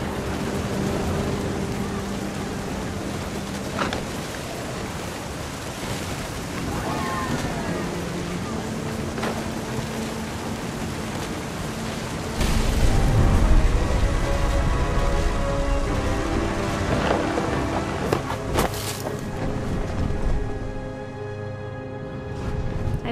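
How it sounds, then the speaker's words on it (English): A thunderstorm with heavy rain in the video game What Remains of Edith Finch: rain hisses steadily, and a deep rumble of thunder swells about halfway through, while a voice speaks over it. "Thunder sounded much too close and full of angry power."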